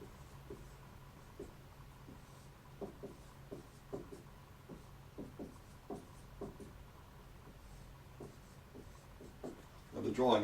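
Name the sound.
drawing a graph by hand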